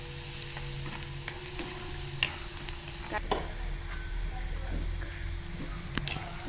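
Onion sizzles steadily in a pan, with occasional scrapes and taps as it is stirred, close by and moderately quiet, while voices talk over it.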